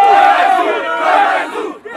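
A large crowd roars and cheers continuously, loud and close, with a dense wash of shouting voices that dips briefly near the end.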